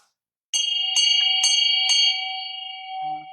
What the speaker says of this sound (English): This is actually a diagnostic tool, or you'll be using bells. It's called ganta.